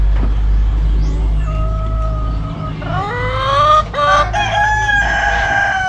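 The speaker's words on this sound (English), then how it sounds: "Chickens." Chickens cluck and a rooster crows loudly nearby over a constant low rumble, with several overlapping calls building toward the end.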